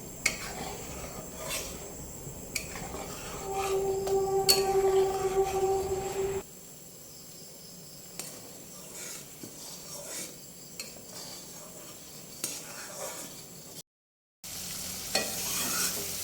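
Butter melting in a wok while it is stirred to make ghee: a soft bubbling sizzle with scraping spoon strokes against the pan, louder at first, then a quieter simmer with occasional clinks, no talking.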